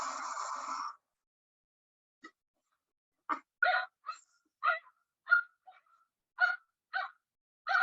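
A person imitates a dog barking: a longer opening yelp, then a series of short, sharp barks spaced irregularly, close to the microphone.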